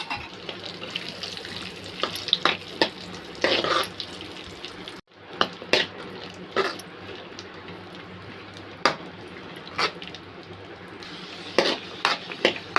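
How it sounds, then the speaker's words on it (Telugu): Cashews and raisins fry in ghee with a continuous close sizzle broken by frequent stirring scrapes and clinks, with a brief break midway before the frying resumes, and no one speaking. "కొన్ని జీడిపప్పులు వేసుకొని వేయించుకోవాలి జీడిపప్పు కొంచెం వేగిన తర్వాత కొన్ని కిస్మిస్ కూడా తీసుకొని వేయించుకోవాలి"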